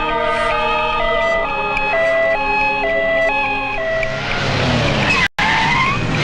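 An ambulance siren on a road in a comedy scene, wailing in stepped up-and-down tones that hold steady, then blurring into a noisy rush of passing traffic with a brief dropout near the end.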